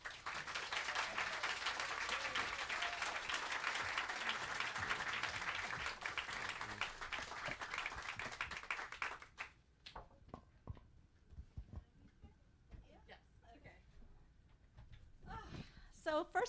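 Audience applause welcoming two authors at a bookstore event, a dense, steady burst of clapping that fills the room for about nine seconds, then drops away to scattered claps and quiet shuffling.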